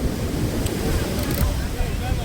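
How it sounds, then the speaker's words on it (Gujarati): Sea waves breaking on the shore near Madhavpur beach, a steady loud wash of surf mixed with rumbling wind buffeting close by, continuous and unbroken. "આ દરિયાનો મોજો એટલો અધર ઉતરી ગાઈસ."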